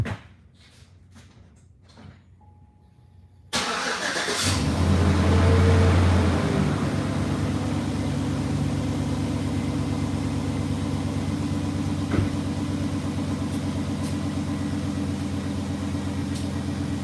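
Car engine cranks and catches, then settles into a loud steady idle with a low rumbling drone that continues, a few quiet knocks heard before the start.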